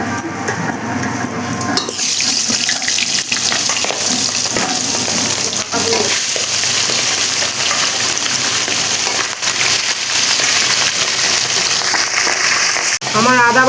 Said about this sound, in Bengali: কড়াই গরম হয়ে গেছে, আমি কড়াইতে সর্ষের তেল দিয়ে দিচ্ছি মাছের মাথাগুলি ভাজার জন্য।